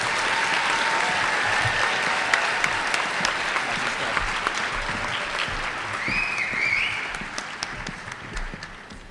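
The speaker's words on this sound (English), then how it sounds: "Let's have one more round of applause for this year's class of inductees." Sustained applause from an audience at a high school National Honor Society induction ceremony, dense clapping filling the room steadily before thinning slightly toward the end.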